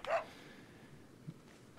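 A dog barks once in the Resident Evil 4 video game, a short, fairly loud yelp right at the start followed by quieter game ambience.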